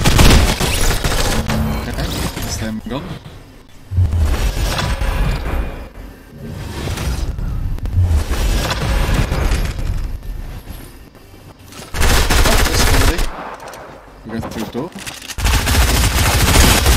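A submachine gun fires in sustained loud automatic bursts during a video game, dense and continuous with brief lulls between volleys.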